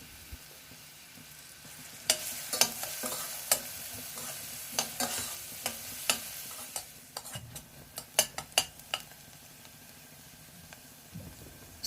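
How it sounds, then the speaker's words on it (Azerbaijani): Onions fry in butter in a borscht pot, a soft sizzle broken by a run of sharp spatula scrapes and taps against the pot, close and fairly quiet, with no talking. "Borşu bişirəcəyim qazana bir xörək qaşığı kərə yağ əlavə edib soğanları qovururam"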